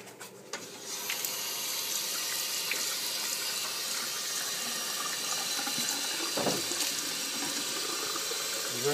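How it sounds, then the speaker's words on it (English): Tap water runs steadily from a faucet into a kitchen sink during handwashing, a continuous broadband rush that stays fairly loud and even, with no talking. "Now what you want to do is wash your hands."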